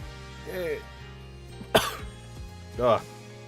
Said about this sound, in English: I've been waiting to cough for the end.